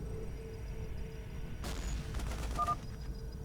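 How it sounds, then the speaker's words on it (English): Gunfire in the StarCraft 2 game, a brief flurry of distant-sounding shots and booms over a steady background hum, with no talk. "Are those gunshots?"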